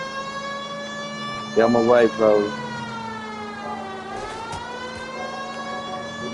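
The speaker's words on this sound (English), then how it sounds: "Turn on the siren." A wailing police car siren in the video game L.A. Noire, with steady harmonic tones rising and falling behind a voice and loud engine noise.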